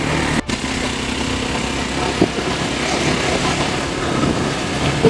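A motorbike engine runs steadily on a village path in rural Nepal, a continuous close mechanical drone throughout with a brief dip near the start and a few small knocks.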